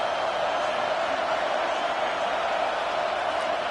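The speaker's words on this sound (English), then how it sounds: "Listen to the crowd energy here in the early going." Dense, steady roar of a college football stadium crowd at an Ole Miss versus Texas A&M game, a constant wash of cheering and noise with no breaks, loud and enveloping.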